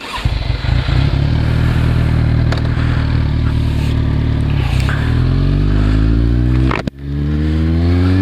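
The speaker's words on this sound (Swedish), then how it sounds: "Släpp gasen, dra in kopplingen, gasa upp och släpp." A 2015 Kawasaki Z1000 motorcycle engine revs hard and loud up close, holding a steady high roar, cutting out abruptly near the end, then climbing again.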